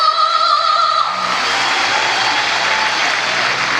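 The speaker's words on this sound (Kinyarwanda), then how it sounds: "munyemerere dukomere amashyi" Applause from a concert crowd at Intare Arena, Rwanda, swells after a brief tonal hum and continues as a dense, steady clapping wash to the end.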